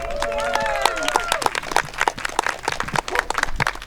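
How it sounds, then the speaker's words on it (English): A crowd gathered at a dog park grand opening claps in brisk, sharp bursts that thin out over a few seconds, while cheerful voices and a whistle-like tone carry over the applause near the start. "let's give him a round of applause"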